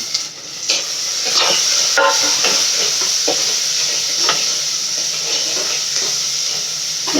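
Onions for fish curry sauté in hot oil with a loud, constant sizzle close by, while a spatula scrapes and taps in scattered strokes.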